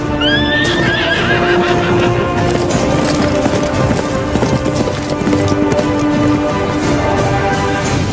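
A horse whinnies loudly several times while hooves clip-clop in a dense, loud film soundtrack scene full of layered music and effects.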